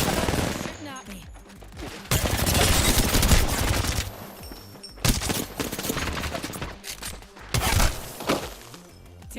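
Rapid bursts of video game gunfire rattle in dense volleys with sharp cracks and impacts, loud and close, alternating with brief lulls.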